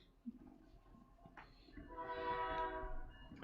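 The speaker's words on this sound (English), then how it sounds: "now there's a train coming" A train passing, its horn blaring with a sustained harmonic blast that swells louder midway, over a low rumble of rail cars.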